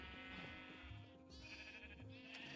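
A sheep in the Blocky Fish video game gives a clear, wavering bleat, heard up close and fairly quiet, with no talk over it.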